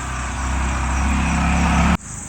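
A vehicle rumbles along a rural Konkan village road, its low engine noise building steadily as it nears, then cutting off abruptly.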